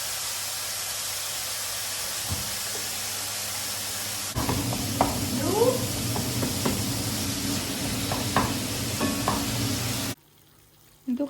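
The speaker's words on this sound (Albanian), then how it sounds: "Ndërkohë këtë do ta skuqim dhe do t'i hedhim pak salcë tomate edhe kaq." Food sizzles in a frying pan before tomato sauce goes in, a steady hiss and crackle with occasional stirring clinks, louder after a few seconds and cutting off near the end.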